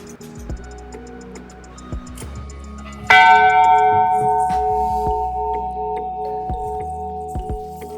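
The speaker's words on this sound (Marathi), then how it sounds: "घंटी वाजवायचे फुल प्रयत्न चालू होते इथे बरं का" A few soft ticks and knocks, then a single loud temple bell strike at Matheran that rings out with a long, slowly fading metallic hum.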